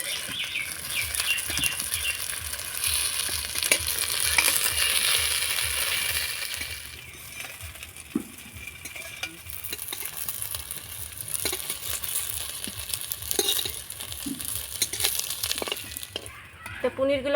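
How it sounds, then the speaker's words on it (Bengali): Taro-stem paneer pieces fry in a kadai while being turned and stirred, a steady sizzle with scraping and occasional clinks of the spatula against the pan, close and continuous. "এগুলোকে আমি লাল লাল করে ভেজে নিয়েছি"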